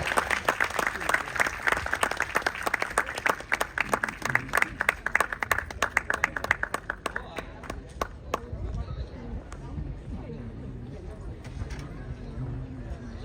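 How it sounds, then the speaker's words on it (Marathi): A children's school audience at a prize-giving gives loud, dense applause that fades out after about eight seconds, leaving room noise and scattered sounds, with voices over it. "जोरदार टाळ्या होऊ द्या यांच्यासाठी जोरदार टाळ्या"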